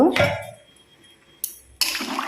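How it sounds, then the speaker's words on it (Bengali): Water is poured into a cooking pot of potato and jackfruit curry: a brief splash opens, then a short lull with a small tap, and a second burst of pouring, close and moderately loud. "দেখো জল দিয়ে দিলাম"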